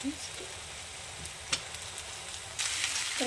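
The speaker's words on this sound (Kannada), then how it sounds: "ಚೆನ್ನಾಗಿ ಫ್ರೈ ಮಾಡ್ಕೊಬೇಕು" Sweet potato leaves fry softly in a hot pan for kadubu, broken by a few scraping stirs, and the sizzle swells louder near the end.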